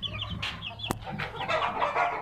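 Fighting-breed chickens cluck and peck nearby, soft irregular clucks with a sharp tap, close and moderately quiet.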